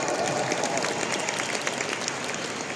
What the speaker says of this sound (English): Can we all give ourselves a round of applause today?